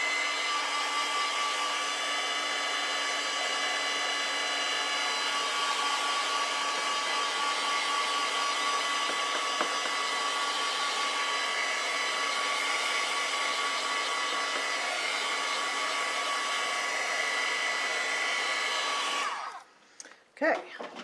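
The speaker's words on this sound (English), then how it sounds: "Now I'm just going to take a dryer and blow dry this so I can put some yellow without it" A hair dryer blows steadily at close range for about twenty seconds while drying a mixed media painting, a constant whining hum that cuts off abruptly near the end.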